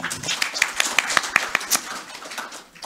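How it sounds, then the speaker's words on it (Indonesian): An audience at a religious talk claps in a brief scattered patter of individual hand claps that thins out and fades after a couple of seconds. "saya salut lagi sekali tepuk tangan untuk Kiai Fuad"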